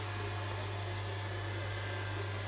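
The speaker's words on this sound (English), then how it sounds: "So this is my robot hoover." A small robot vacuum cleaner runs indoors, cleaning a floor, giving a steady, continuous motor hum with a constant low drone and broadband whir, close and unchanging throughout, with no talking.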